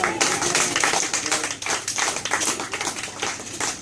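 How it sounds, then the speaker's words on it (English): An audience applauding, a dense burst of clapping hands that swells and thins slightly, loud and close. "Give her a big round of applause."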